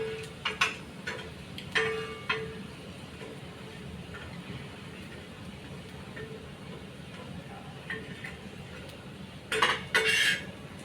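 Kothimbir vadi being turned over on a tawa with the gas off: a few light metallic clinks and scrapes of a spatula at the start, quiet kitchen hiss, then a louder clatter near the end.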